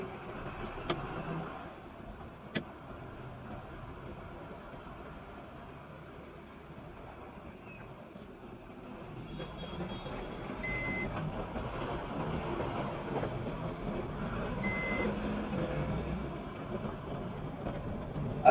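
Traffic at the 18 Mile toll plaza, a low steady rumble of passing cars and trucks that swells in the second half, with a few faint tonal beeps and distant clanks, no talk.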